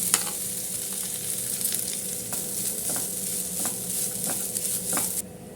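Grated coconut with cashews and raisins frying in a pan, a steady close sizzle with occasional stirring scrapes throughout, no talking.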